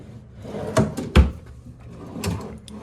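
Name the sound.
hotel room drawer opening and closing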